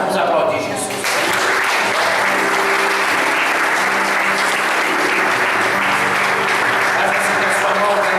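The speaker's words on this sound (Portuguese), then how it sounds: "vamos aplaudir Jesus." A church congregation applauds during a worship service, dense sustained clapping that swells in after a second and stays loud and full, with a low sustained tone from music or an organ beneath it.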